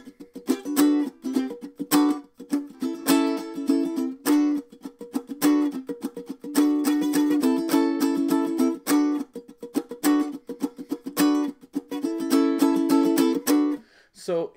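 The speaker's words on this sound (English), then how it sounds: "He just lets the fingers stay on the strings and mute the sound" Ukulele strumming with the fretting fingers resting lightly on the strings, producing a choppy, percussive pattern of short muted chords mixed with ringing strums, steady rhythm, close and alone.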